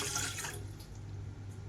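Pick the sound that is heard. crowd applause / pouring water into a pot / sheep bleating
pouring water into a pot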